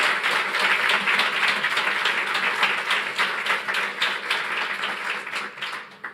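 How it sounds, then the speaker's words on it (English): An audience at a launch event claps steadily, a dense, even wash of applause that holds throughout and tapers slightly at the end. "Let's give them a big round of applause."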